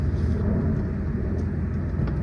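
1997 JDM Honda Accord wagon engine running, a loud, steady low rumble close by with slight fluctuations, no voices over it.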